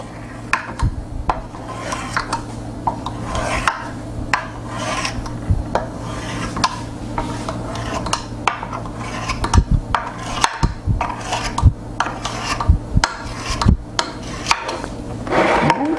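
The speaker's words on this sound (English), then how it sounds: "then I take a knife and I score it" A knife scores rolled-out gluten-free cracker dough with a series of short, dry scraping and rasping strokes in an irregular rhythm, close and fairly clear over a steady low hum, with no talking.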